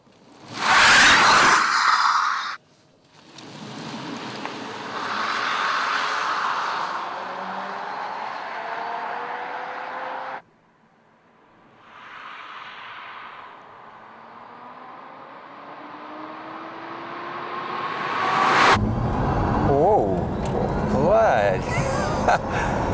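Mercedes-Benz SLS AMG E-Cell electric sports car accelerating in high-performance drive mode, a rising electric whine and rushing road and wind noise that builds in surges, with someone talking over parts of it.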